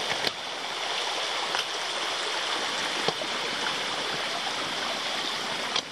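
Rainwater pours down a hiking trail as if it were a river, a continuous close-up gushing and splashing with a few faint taps and no voices.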